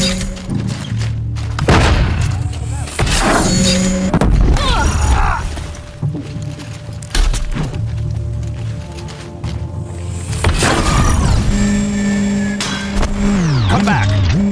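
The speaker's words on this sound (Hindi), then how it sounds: "धमाके वाला डिस्क फेंकाता है इसके अंदर से" An explosive disc launcher fires in a video game, with several loud booms and thuds amid engine revving and game sounds while a voice talks over them.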